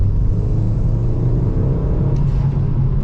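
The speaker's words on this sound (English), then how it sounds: "Let's get a little third gear pull out of this turn here so you can see what that's like." A hot hatch fitted with a Jetex exhaust pulls hard in third gear, a loud, steady engine roar and deep rumble close by that builds without a break.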